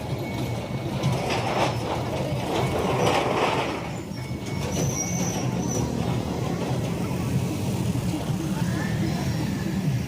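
A steady, heavy rumble of a train rolling past nearby at a closed railway crossing, continuous and loud, with a faint high squeal and some traffic noise mixed in.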